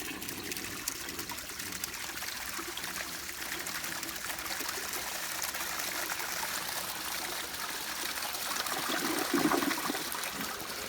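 A 1961 Standard Cadet vintage toilet flushes, with a continuous rushing, trickling water flow that builds slightly toward the end and keeps a steady, close level throughout.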